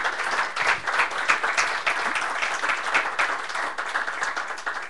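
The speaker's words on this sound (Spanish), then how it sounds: "Denle un aplauso al Señor fuerte." Sustained applause from a church congregation fills the space, dense hand claps rising and falling steadily throughout without a break.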